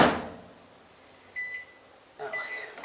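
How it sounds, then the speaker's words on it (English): Microwave oven in a home kitchen: a short electronic beep, a brief pause, then a second longer beep as buttons are pressed, preceded by a soft clunk and faint room noise. "I can't use the 0 on my microwave."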